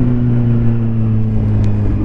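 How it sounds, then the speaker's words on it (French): Kawasaki Z 750 R motorcycle fitted with a Leo Vince SBK exhaust idling steadily, a deep, loud, even engine burble with strong low harmonics, heard alone at close range. "Mais ce bruit, les amis! On a un pot Léo Vince"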